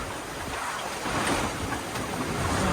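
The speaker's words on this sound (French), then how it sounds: "le vent est tellement irrégulier" Wind and waves around a sailboat moving along the island of Euboea in Greece: a constant broadband rush of gusty, irregular air and splashing water, fairly close, swelling slightly toward the end.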